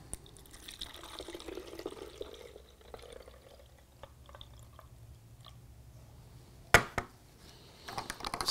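Isopropyl alcohol hand sanitiser trickles and splashes faintly into a small 100 ml bottle, followed by a sharp click and a few soft clinks near the end.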